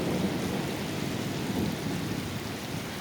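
Thunderstorm with steady rain outdoors near a building in Ontario, a continuous broadband wash of rainfall with low distant thunder rumbling underneath, no voices.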